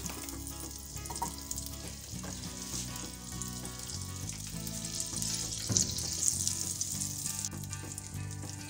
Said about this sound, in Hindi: दो चम्मच मक्खन डाल रही हूँ